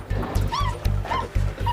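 A tiny 3.5-week-old runt puppy stuck in a sewage drain in Auckland, New Zealand, whimpers and yips in a string of short, high, rising cries, close and fairly loud over a low rumbling engine hum.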